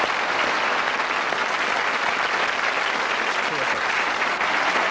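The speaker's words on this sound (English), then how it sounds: "can we have a round of applause for all our worthy winners?" A television studio audience applauds the winners on a 1982 BBC show, a loud, even wash of many hands clapping continuously and close throughout.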